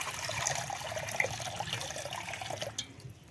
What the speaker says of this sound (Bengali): উনান ধরিয়ে কড়াই বসিয়ে কড়ার ভিতরে দিয়ে দেবো জল